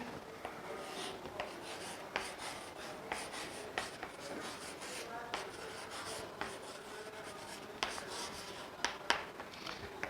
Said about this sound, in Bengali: নামটা লিখে দিচ্ছি